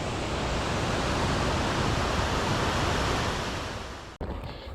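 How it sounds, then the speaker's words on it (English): A steady, dense roar of rushing water from a waterfall in Glacier National Park fills the air, constant and loud, then cuts out abruptly near the end. "The beautiful waterfall."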